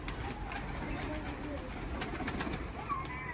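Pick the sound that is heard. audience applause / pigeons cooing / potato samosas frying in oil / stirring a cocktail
pigeons cooing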